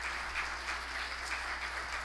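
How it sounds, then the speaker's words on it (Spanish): A brief burst of audience applause at the 2015 Forbes forum, an even wash of clapping from a seated crowd, moderately loud and without any talk. "Fuerte aplauso también para él."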